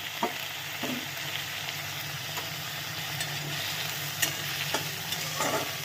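Sliced, washed onions sizzling in hot oil in a pan for Bengali til posto, a steady bright frying hiss with a few soft stirring clinks, alone without voices.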